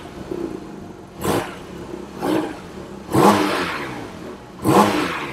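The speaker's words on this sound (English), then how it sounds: "Just gonna give it some quick revs." A Porsche 718 GT4 RS Weissach revs four times in short, sharp blips with the exhaust closed, each rising quickly and falling back to idle, heard close by and with no talking.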